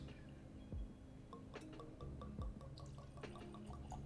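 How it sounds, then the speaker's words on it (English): A small drink being poured from a freshly opened bottle in an apartment, faint trickles and liquid splashes with a couple of brief glugs, quiet and close, no speech. "Tiniest of pours."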